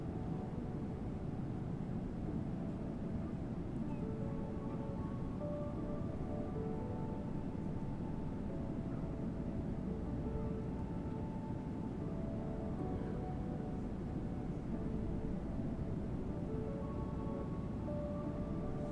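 A Boeing 777-200ER in the PMDG flight simulator drones with a steady, loud jet engine roar and faint tonal whine, unchanging and without speech throughout.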